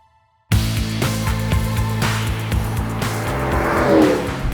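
An HSV GTSR W1 Australian muscle car roars loudly and steadily up close, its deep engine note rising, with tires squealing briefly near the end.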